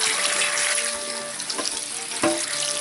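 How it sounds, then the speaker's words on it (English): Trimmed prawns rinsed under a running cold-water tap, giving a steady close hiss of flowing water with a few soft splashes and clinks, no voices. "it's time to give them a good rinse, get rid of any more little impurities with cold water"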